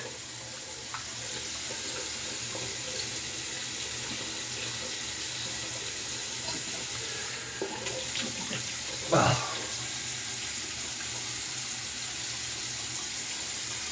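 A tap runs steadily for the whole stretch as a safety razor, an adjustable Phoenix Shaving Ascension Twist, is rinsed under it, with one brief louder splash partway through.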